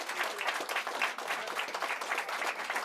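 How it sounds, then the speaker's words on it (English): A magic show audience gives the magician's assistant a round of applause, even and moderately loud clapping that carries on without a break. "give her a round of applause"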